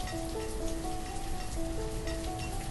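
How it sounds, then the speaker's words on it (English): Rain in the video game Banished pours as a steady, dense hiss of drops on surfaces, continuous and even, with a faint tonal hum beneath it and no talk. "we have these horrific rains going on"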